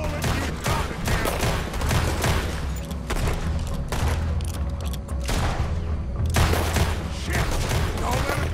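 Sustained gunfire in the video game Red Dead Redemption 2, dense volleys of rifle and pistol shots mixed with booms and thuds, loud and continuous, with voices shouting underneath.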